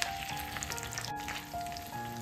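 Gram flour roasting in ghee for besan ladoo, a steady close sizzle with fine crackling pops and a continuous frying hiss, no voices.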